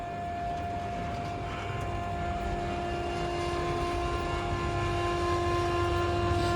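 A rooftop lift descending, a steady mechanical drone with constant tonal hum from its motor, continuous and fairly loud, with no voices.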